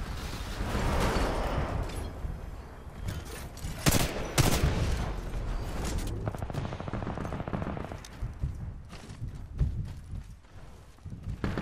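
Titan weapons blazing in Titanfall 2, a video game: dense machine-gun bursts and heavy booming impacts with metallic clanks, loud in the middle and tapering into scattered shots, with occasional faint speech beneath.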